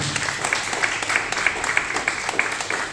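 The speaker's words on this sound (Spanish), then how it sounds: "Fuertes aplausos, Señor." Steady applause from a church congregation at a Sunday service, dense clapping at even strength with a sharper rhythmic clap pattern beating through it.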